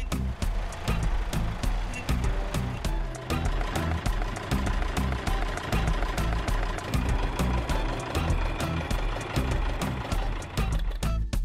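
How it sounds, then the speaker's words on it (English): A tractor engine runs with a steady mechanical chugging and repetitive knocking beat, loud and close, continuing without a break and without any talk over it. "Tractor."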